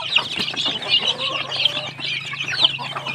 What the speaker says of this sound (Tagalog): unti-unti nang dumarami mga farmer yung mga manok talaga natin dito